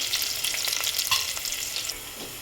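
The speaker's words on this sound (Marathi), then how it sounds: "आता हे कांद्याला आपण थोडं होऊ देऊयात" Onions fry in a pan for a black-eyed bean curry, giving a loud, close, continuous crackling sizzle with a brief stir, and nobody speaks.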